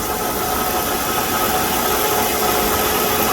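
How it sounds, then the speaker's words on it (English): A car's air-conditioning compressor engaged and running continuously without cycling off, a steady close mechanical hum and whir over the idling engine, with no talk. "That's the compressor working right there."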